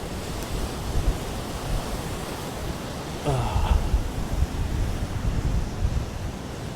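Sea waves washing on the North Norfolk coast near Overstrand, a broad continuous roar of surf mixed with wind buffeting the microphone, swelling a little midway.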